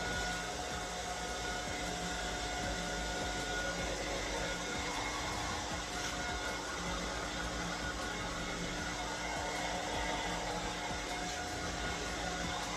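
A hair dryer blows steadily while a dog is dried during grooming, a constant close whooshing roar with a faint whine that holds unchanged throughout, with no talking.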